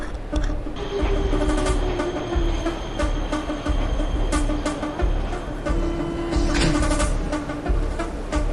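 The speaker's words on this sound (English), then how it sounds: "Not while the train is here." A video-game train rumbles steadily past up close, with clattering wheels, metallic squeals and a continuous low roar throughout.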